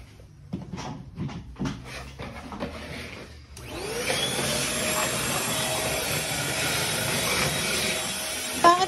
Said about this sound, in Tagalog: Pangit ng vacuum, naiinis ako.